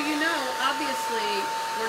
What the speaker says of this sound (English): And this hair dryer comes out.